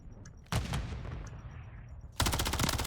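A submachine gun fires in a Counter-Strike esports match: a sharp burst begins early, the sound tails off, then a second loud, rapid burst of rattling shots follows near the end.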